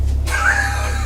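A cat gives a single short meow from an attic in the Shadows Remastered video game, heard over a low background hum.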